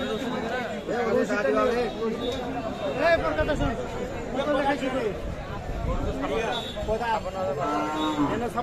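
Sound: cow mooing at a cattle market

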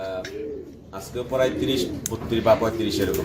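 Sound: pigeons cooing

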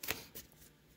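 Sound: tarot cards being shuffled

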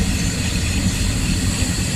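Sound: freight train wagon passing with sparks from its wheels

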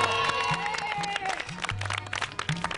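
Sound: audience applause for Saro

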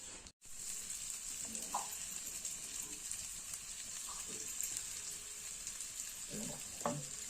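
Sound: onions frying in hot oil in a kadhai

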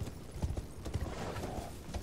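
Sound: horse galloping in Elden Ring video game

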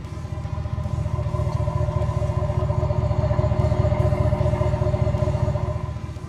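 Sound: V8 truck tuned exhaust idling

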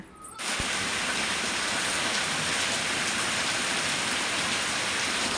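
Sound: rain falling

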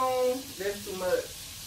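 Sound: butter sizzling in pan

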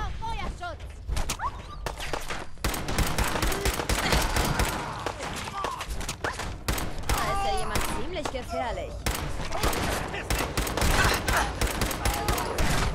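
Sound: gunfire from an enemy in the video game Fallout 4

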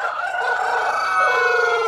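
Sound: tiger chicken rooster crowing at poultry farm

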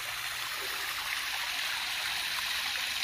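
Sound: river water flowing

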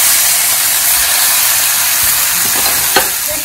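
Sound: chicken added to hot pan, sizzling

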